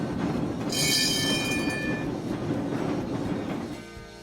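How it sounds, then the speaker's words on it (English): A streetcar rumbles along rails with a sustained metallic wheel squeal near the start and a steady clatter of wheels continuing loudly throughout. "Streetcar."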